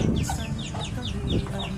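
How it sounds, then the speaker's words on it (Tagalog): A mother hen clucks softly and repeatedly nearby while her three small chicks peep in quick, high chirps. "pinapakain muna natin ang ating isang inahin na may 3 sisiw na natira"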